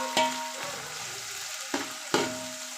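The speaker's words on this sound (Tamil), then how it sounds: "இந்த ஆனியன் வந்து கொஞ்சம் ப்ரௌனிஷாக ஆகிற வரைக்கும் இது பண்ணிக்கலாம்" Onions frying in a pan for chicken dum biryani, a steady soft sizzle broken by a few sharp stirring scrapes and clacks, close and alone with no talking.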